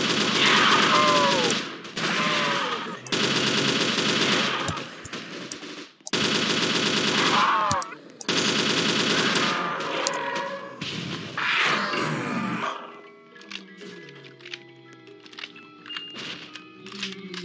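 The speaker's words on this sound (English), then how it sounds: "Didn't know I had a machine gun" Automatic fire from a machine gun in the zombie shooter Project Lazarus, loud sustained bursts with short gaps, then quieter game ambience and scattered effects toward the end.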